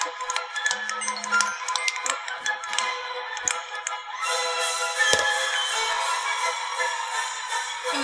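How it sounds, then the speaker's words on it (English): A mobile phone ringtone plays as a continuous electronic melody for about eight seconds, steady and moderately quiet, with its tone brightening partway through and no talk over it. "Oh, that was my phone."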